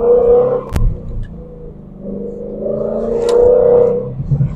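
Ford Mustang GT with active exhaust set to normal mode, driven in traffic: a low, moderate engine drone swells and eases over a few seconds, with a brief sharp click partway through.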